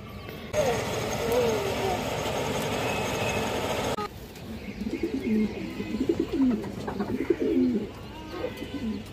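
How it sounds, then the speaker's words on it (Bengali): Old Bagha-breed pigeons coo in repeated low, throaty rolls, close by, over steady background noise and a voice. "এই দেখেন নটটা পুরনো বাঘা কবুতর দেখেন দর্শক, অনেক সুন্দর একটা কবুতর"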